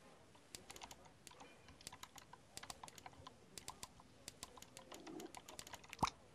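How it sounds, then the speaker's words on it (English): Rapid typewriter key strikes from the Scribblenauts Unlimited video game, a steady clatter of sharp taps running throughout with a louder clack near the end, over faint game background sounds and no talking. "get the typewriter and put it on the floor and see what you do"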